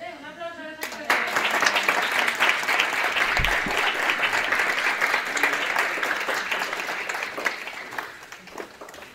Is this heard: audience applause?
yes